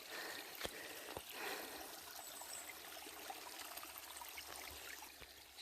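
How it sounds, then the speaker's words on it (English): A small creek runs past along a backpacking trail in the western uplands, a faint, steady rush of flowing water with occasional soft clicks, alone and continuous. "Just a little creek running through"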